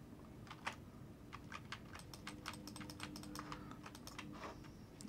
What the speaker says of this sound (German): Das ist übrigens, wenn ich Maus klicke.